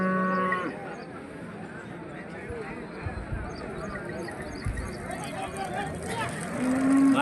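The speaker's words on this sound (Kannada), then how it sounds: "ಒಳ್ಳೊಳ್ಳೆ ಹಸುಗಳು ಬಂದಿದ್ದವು ಲಕ್ಷ್ಮೇಶ್ವರ ಜಾನುವಾರು ಮಾರುಕಟ್ಟೆ ಒಳಗೆ." Cows at a busy livestock market in Lakshmeshwar, with a few drawn-out moos at the start and end over a steady crowd murmur and voices of people talking nearby.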